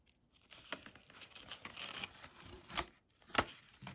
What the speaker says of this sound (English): I'm trying to take this tape off now